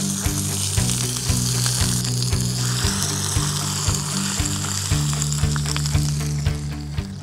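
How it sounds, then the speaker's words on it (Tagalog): Chicken sears in a hot pan with a steady, loud sizzle and spitting crackle, punctuated by regular low knocks and scrapes as it is moved, without talking. "I'm just basically going to sear it."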